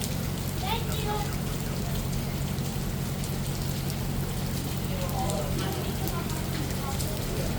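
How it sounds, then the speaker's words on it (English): Storm rain on a Thursday afternoon pours down in a steady, dense hiss that never lets up, with a low rumble beneath and faint voices briefly surfacing through the downpour. "Rain, rain, rain on a Thursday afternoon."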